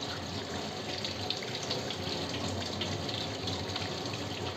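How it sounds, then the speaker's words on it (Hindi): Chicken liver rinsed under a running kitchen tap, a steady close rush and splash of water into a sink, continuous throughout with no talking. "इसे अच्छे से धो लेंगे, ताकि इसका सारा कड़वापन निकल जाएगा।"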